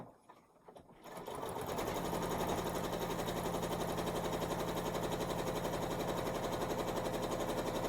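A sewing machine stitches a quilt-as-you-go quilt, starting after a brief quiet moment and then running in a fast, steady, continuous whir close by.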